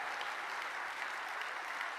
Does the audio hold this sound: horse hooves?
no